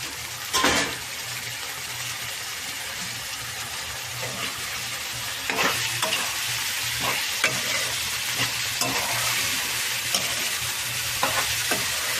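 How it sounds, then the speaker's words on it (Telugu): Prawns and onions fry in a pan with a steady loud sizzle, while a utensil stirs and scrapes through them in irregular bursts close by. "ఉల్లిపాయలు పూర్తిగా మగ్గక ముందే రొయ్యలు వేసేస్తున్నా."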